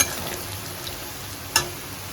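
Mustard seeds fry in hot oil in a pan with a steady, close sizzle, broken by one sharp pop partway through.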